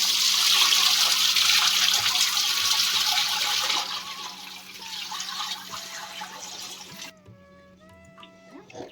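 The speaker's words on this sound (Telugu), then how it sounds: "3 సార్లు అయితే బాగా ఇట్లా ఫుల్గా వాటర్ పోసి మంచిగా రైస్ని కడిగేసుకోవాలి." Water poured and swished in a vessel while rice is washed for arishelu, a steady splashing rush that fades partway, then gives way to quieter trickles and drips near the end.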